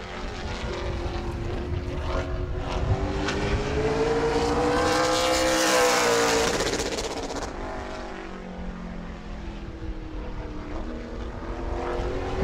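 A Chevrolet super late model race car, number 80, runs a qualifying lap at New Smyrna. Its engine makes a loud, sustained drone with a rising and falling pitch as it sweeps past, and there is no talk over it.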